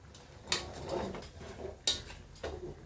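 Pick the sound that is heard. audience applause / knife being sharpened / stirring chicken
stirring chicken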